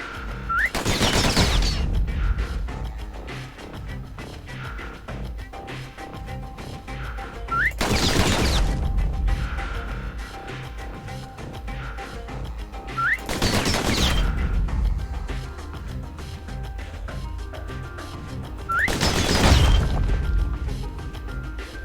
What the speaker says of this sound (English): Those pistols could spit out rounds just as quick as you could pull the trigger.